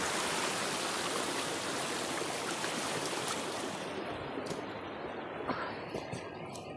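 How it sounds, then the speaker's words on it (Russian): Water from the Kaverzinsky waterfalls rushes in a steady, loud broadband roar, with the flow easing slightly toward the end and a few faint clicks and splashes on top. "Вот такие вот они, каверзинские водопады."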